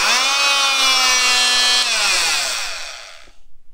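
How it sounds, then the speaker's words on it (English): A multi-tool cuts into the heel of a running shoe, giving a loud, steady buzzing whine that holds for about two seconds. The pitch then drops as the blade slows, and it fades out near the end. "I got out the multi-tool already. I set it up and it's very loud."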